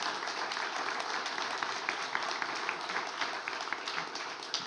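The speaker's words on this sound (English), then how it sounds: "If we can please give them a round of applause." Applause from a conference audience for a panel on circularity in design, policy and construction; moderate, even clapping from a mid-sized crowd, fairly distant and continuous.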